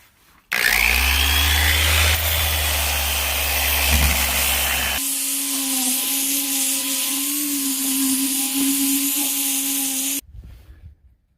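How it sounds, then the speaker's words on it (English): A power sander works paint off a machine with 100 grit sandpaper in cold weather, a loud continuous abrasive whir that shifts pitch midway and runs for about ten seconds before cutting off. "I'm gonna sand it with 100 grit now,"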